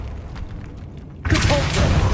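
A Bombarda blasting spell in Hogwarts Legacy, a quiet lead-in broken by a sudden loud booming burst that keeps rumbling with crackling debris to the end.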